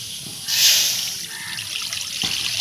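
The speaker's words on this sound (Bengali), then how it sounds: "কড়ার মধ্যে প্রথমে পানিটা দিয়ে দেব।" Water pours steadily into a wok at an outdoor village cooking spot, a continuous splashing gush that swells at the start and keeps running to the end.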